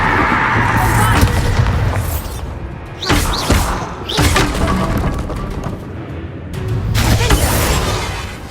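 Bombarda blast spell cast in Hogwarts Legacy: loud booming, shattering impacts that burst out repeatedly across the fight, with crashes near 3, 4 and 7 seconds over a dense rumbling game mix.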